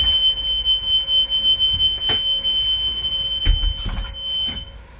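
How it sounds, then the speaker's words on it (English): A bus rear emergency exit door alarm sounds as a steady high electronic buzz during an in-cab inspection, held throughout with faint thumps and handling noise beneath. "The alarm sounded, letting me know my rear emergency door is working properly."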